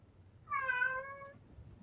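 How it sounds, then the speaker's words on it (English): A house cat gives a single clear, drawn-out meow at moderate distance, rising then falling, over a low steady room hum with no talking. "I hear the cat."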